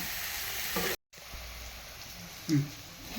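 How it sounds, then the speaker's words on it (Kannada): Onions or aromatics frying in a pan before spinach (palak) paste goes in for palak paneer gravy: a soft, steady sizzle with a brief gap and one louder scrape or clatter near the end. "ಒಂದೆರಡು ನಿಮಿಷ ಇದು ಸ್ವಲ್ಪ ಫ್ರೈ ಆಗಲಿ"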